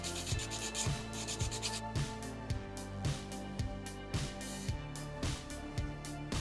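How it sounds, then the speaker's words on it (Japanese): 120-grit sandpaper rasps against a homemade fishing lure in steady back-and-forth strokes, an even rhythm of about two strokes per second, close and alone. "少し120番で整えます。"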